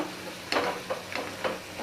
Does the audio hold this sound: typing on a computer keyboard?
no